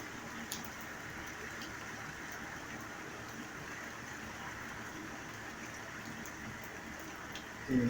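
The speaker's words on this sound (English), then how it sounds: "The rain's increasing again." Steady rain falls on a flooded city street during a storm, a constant soft hiss of drops on water that stays faint and even throughout, with no voices.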